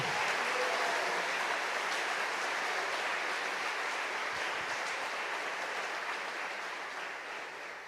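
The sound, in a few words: strong applause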